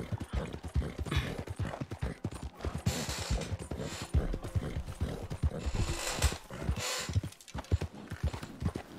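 Steady clip-clop of horse hooves in Red Dead Online, a busy and continuous run of footfalls with faint creaks from tack and rigging, close and fairly loud throughout.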